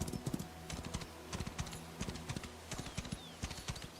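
Horse hooves clip-clop at a steady walking rhythm in the video game Where Winds Meet, a repeated close, moderately loud clatter running alone throughout.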